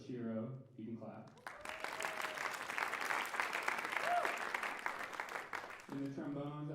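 An audience claps for the wind section of a band at a concert, a steady, full round of applause that swells in and then fades, with a speaking voice heard briefly before and after.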